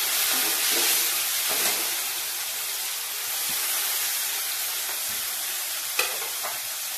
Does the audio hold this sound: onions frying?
yes